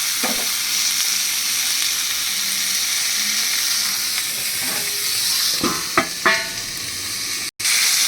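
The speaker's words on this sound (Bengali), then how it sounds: "পটল দিয়ে একটু লাল লাল করে ভাজতে হবে" Pointed gourd (potol) pieces frying in hot oil give a steady, close sizzle, with a few sharper crackles and stirring scrapes near the end and a brief cut just before the close.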